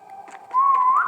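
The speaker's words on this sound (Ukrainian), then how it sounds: "Я зараз її буду свистіти." One person whistles a short call, starting low and soft, then rising into a louder, sustained tone that slides upward at the end.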